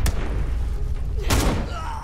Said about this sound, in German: Der erste Schuss, den sie abgibt.